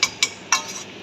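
Pork ribs being mixed with gravy and masala in a pan, giving three sharp metallic clinks of a utensil against the pan over a faint sizzling background, with no voices.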